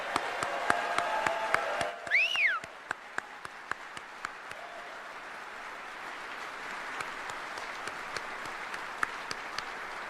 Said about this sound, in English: Let's give them a giant round of applause today